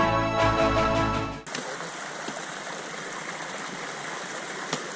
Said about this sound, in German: Heute plötzlich reißende Strömung am Bach.